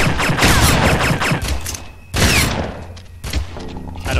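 Shotgun blasts from enemy soldiers in the shooter game Red Faction, fired inside a mine, come as loud repeated booming shots with a short pause midway and fainter mechanical clatter between them.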